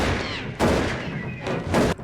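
A gunshot from the TV show Lost comes through as loud, broad blasts, about two or three heavy bursts in quick succession over a dense, noisy background.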